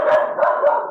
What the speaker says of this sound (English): Sorry, that's dog.